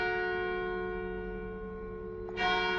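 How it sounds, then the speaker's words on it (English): Church bells of the Dormition Church on Mount Zion in Jerusalem ring for noon, a sustained resonant tone that hangs in the air and swells with a fresh strike near the end, with no talking. "These are the bells of the Dormition Church. It means that it's 12 o'clock now."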